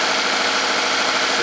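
A Chevy Equinox engine idles steadily after repair of a low-power fault, giving a continuous, fairly loud mechanical hum with no talk over it.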